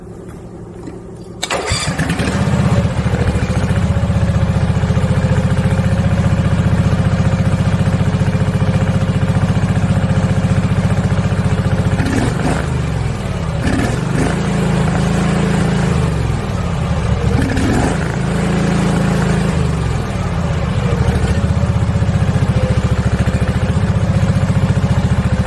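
A riding lawn mower engine catches after a carburetor cleaning and settles into a loud, steady idle close by, with a few brief dips in its note along the way.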